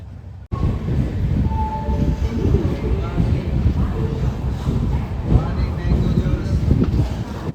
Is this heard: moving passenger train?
yes